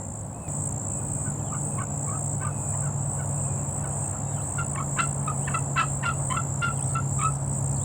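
A wild Florida turkey gobbles in a rapid series of rattling calls at some distance, over steady outdoor insect hiss and a low hum.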